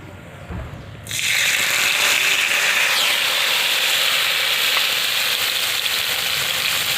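Cumin seeds and ground chili paste dropped into hot oil for a rohu fish jhal, bursting into a loud, sudden sizzle after a quiet second and holding as a dense, steady crackle.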